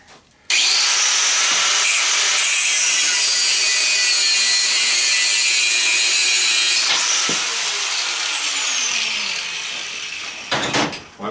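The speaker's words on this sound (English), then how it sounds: "Angle grinder." An angle grinder cuts into an air compressor motor during scrapping, a loud, steady high-pitched whine and rasp that runs continuously for about ten seconds before winding down, with no talking.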